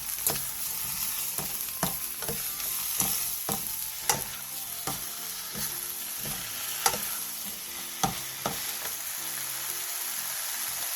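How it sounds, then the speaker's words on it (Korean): Stir-frying banchan in a pan over medium-low heat after adding a cup of soju and half a spoon of minced garlic: a steady sizzle with repeated scraping knocks of a spatula, close and continuous. "소주 1컵과 다진 마늘 반스푼을 넣고 중약불로 줄여 3분 정도 더 볶아주세요"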